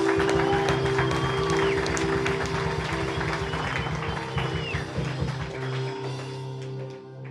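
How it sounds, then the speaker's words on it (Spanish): Church congregation applauding during a sermon, a lively burst of many hands clapping over a sustained musical drone, thinning and fading out toward the end. "Un aplauso a Jesús"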